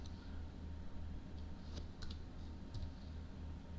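Quiet, close typing on a computer keyboard, a sparse run of light clicks with a couple of sharper keystrokes over a low steady room hum.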